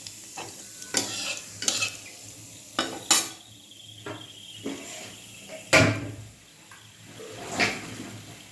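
Whole cloves, cardamom and cumin seeds sizzling in hot oil in a pan, with a spoon scraping and stirring in several distinct bursts over a soft steady frying hiss, close and fairly quiet.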